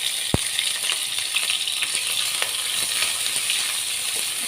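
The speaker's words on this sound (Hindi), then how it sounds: "अब ऐड करेंगे सबसे पहले कैरेट जूलियन में कटी की।" Julienned carrots sautéing in a hot pan, a dense steady sizzle with small crackles and one sharp knock near the start, no voices.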